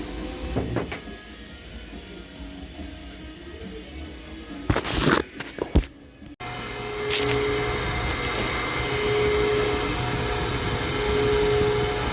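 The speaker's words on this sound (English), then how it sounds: "I'm going to grind on that tip." A grinder works the tip of a valve from a Jeep 3.7 aluminum cylinder head. After a few sharp knocks and clatters, it settles into a steady, loud hissing whine with a faint sustained tone running underneath.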